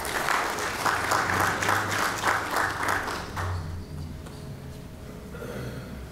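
At an Elmhurst community conversation on staying safely at home, an audience applauds a panel with a sustained round of clapping that thins out and fades midway, leaving quieter room noise with a faint voice.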